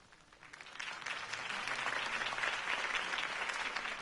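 A crowd claps in sustained applause in a Batman video game, swelling after a soft start and holding steady, dense and fairly loud.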